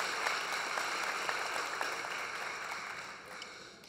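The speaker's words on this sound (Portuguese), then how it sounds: "Uma salva de palmas para eles." Applause from an audience at a disability-awareness commission event, thanking the sign language interpreters: steady broadband clapping held at an even level for about three seconds, then thinning and fading toward the end.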